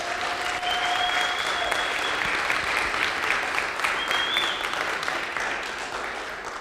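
A church congregation applauds strongly, a sustained full wash of clapping from a large crowd, with a faint whistle or tone briefly rising above it.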